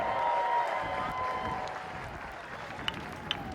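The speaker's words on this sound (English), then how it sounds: "let's give both these teams a round of applause" Crowd applause at a polo match at The Villages Polo Club, a steady wash of clapping from spectators spread across the grounds, moderately distant, thinning slightly toward the end with a couple of sharper claps.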